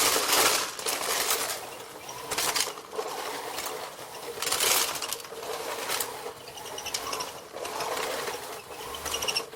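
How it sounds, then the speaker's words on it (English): A BISSELL Natural Sweep manual sweeper rolls over a floor picking up shells and husks, giving a continuous whirring, rattling brush noise with bursts of clicking debris as it is pushed back and forth. "not only took the shells out, it took all the husks and everything else and vacuumed it right up"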